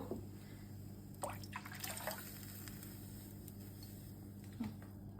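Milk is poured over bread slices for a sweet bread dessert, a faint, close liquid trickle with a few soft splashes against a quiet background hum.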